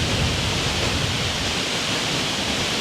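A waterfall in Mpumalanga roars as a steady, dense rush of falling water, loud and continuous with no voices over it.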